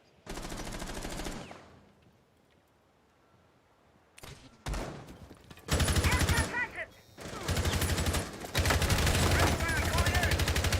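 Bursts of automatic gunfire and shots from a tactical shooter esports match, loud and repeated in clusters after a quiet stretch, with a commentator's voice faintly underneath.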